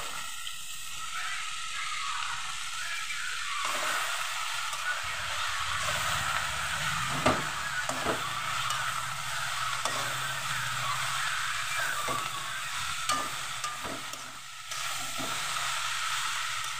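Chopped beet greens dropped into a hot frying pan of fried ingredients give a steady, close hiss and sizzle that runs throughout, with a few sharp crackles and pops breaking through.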